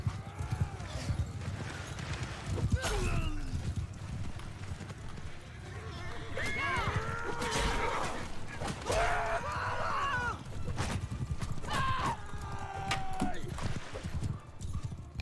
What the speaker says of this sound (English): Cav. Charge! Horses charge. Horsemen move!